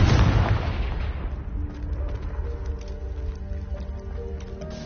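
A Confringo blasting spell in Hogwarts Legacy goes off as a loud, booming explosive burst that fades into a rumbling, crackling tail with lingering tonal ringing.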